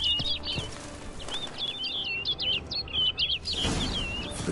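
A bird in the Witcher 3 video game flutters its wings and takes off, followed by a run of quick high chirps, then a burst of louder flapping at the end.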